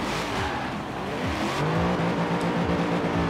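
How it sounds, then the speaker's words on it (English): In Forza Horizon 4, a 2020 Corvette C8 engine revs up and down, its loud rising and falling note broken by a few short pops and crackles, with no voices. "A lot of crackles with this car."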